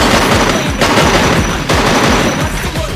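Video game gunfire rattles in dense automatic bursts, loud and close, with the rapid shots running almost continuously and pausing only briefly.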